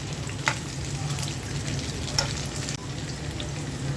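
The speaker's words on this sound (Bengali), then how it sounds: "আলুটা হালকা ভেজে নিলাম।" Potatoes frying lightly in a pan for Muharram khichuri, a steady close sizzle running throughout with a couple of faint utensil clicks.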